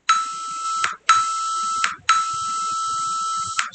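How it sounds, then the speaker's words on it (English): Three loud electronic beeps sound in a row, each a sustained steady buzzing tone lasting about a second with brief gaps between, the last one longer, alone with no talking. "So much loud beeping."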